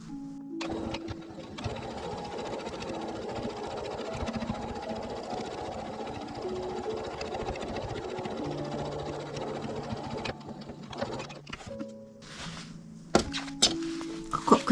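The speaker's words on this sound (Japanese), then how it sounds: "こちらも縫います。" A sewing machine stitches fabric for a four-pocket bag, a fast steady mechanical hum and clatter running for about ten seconds, then stopping with a few short bursts and clunks as the fabric is adjusted, close and quiet.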